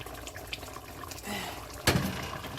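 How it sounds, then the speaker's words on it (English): Water is added to a pot of simmering curry goat, a brief soft pour and splash near the end after quieter kitchen background noise, fairly close and without talk over it. "So I got add a little bit more water, not too much."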